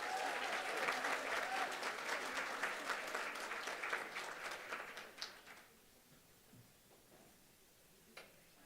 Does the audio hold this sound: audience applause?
yes